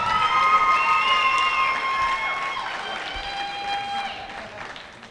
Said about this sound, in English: How about a round of applause for all of them?